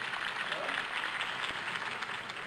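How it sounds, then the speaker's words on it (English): Crowd applause at a campaign rally for Harvey Dent in Batman: The Telltale Series, a steady, dense wash of clapping that holds evenly throughout at moderate level. "heard that applause"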